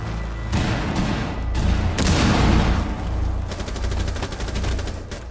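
Gunshots fired from the hip in Rainbow Six Siege, a burst of loud, booming shots followed by a rapid run of close, rhythmic automatic fire.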